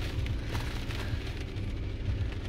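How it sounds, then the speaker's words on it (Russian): Steady rain falling outdoors in early spring weather, a continuous dense hiss with low rumbling beneath, fairly faint and unbroken throughout, with no voices. "У нас на улице погода. Дождь вообще идет."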